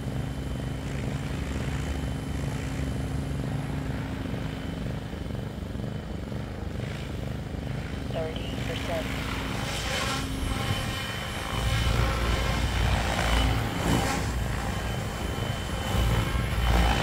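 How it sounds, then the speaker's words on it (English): A Nimbus 550 drone in flight, its motors giving a steady, loud buzzing drone with a whine that runs unbroken throughout and grows fuller toward the end. "You just hear blazing motor."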